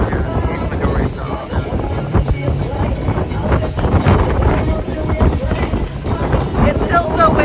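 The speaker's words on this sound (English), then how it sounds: "It's still so windy, in case you needed a reminder." Strong wind roars steadily into the microphone by the sea at Cozumel, a constant buffeting rumble throughout with voices talking faintly beneath it.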